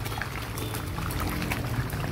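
Fish food pellets poured into a pond where the fish swarm to feed, giving a steady, close splashing and pouring wash that runs the whole time with no talk over it.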